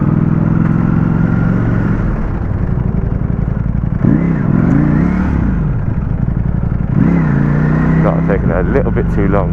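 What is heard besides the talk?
Ducati Panigale V4S superbikes riding in London traffic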